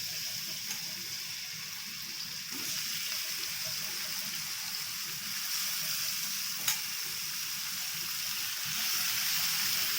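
Chopped vegetables hit hot oil in a pan for a Darjeeling-style Maggi noodle dish, giving a steady sizzle and fry with occasional stirring clinks, close and moderately loud throughout.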